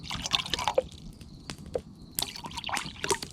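Water trickling and dripping into a camping pot for boiling hot chocolate water at an overnight tarp tent camp, faint, irregular splashes and drips with quiet pauses between.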